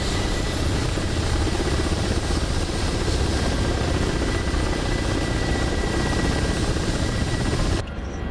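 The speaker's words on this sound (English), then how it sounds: "Nasty attack helicopter." A Ka-50 Black Shark attack helicopter in a video game fills the scene with a loud, steady rotor and engine drone that holds constant, then drops off abruptly near the end.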